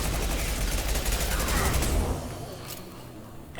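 Submachine gun fire in Mass Effect 2, a dense rattling stream of rapid shots that holds steady for about two seconds and then drops away to quieter background.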